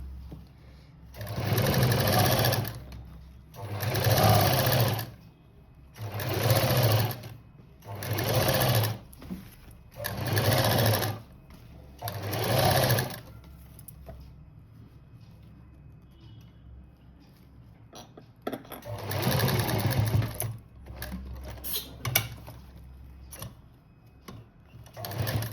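Sewing machine stitching lace along a saree border for patchwork, running in six or seven steady bursts of a couple of seconds each with short pauses between, then one longer run near the end, close and fairly loud.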